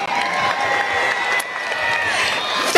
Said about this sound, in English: give those wonderful people who came here today or who are watching you a big, loud round of applause